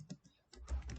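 A computer keyboard being typed on, a quick run of several close, crisp key clicks in about a second.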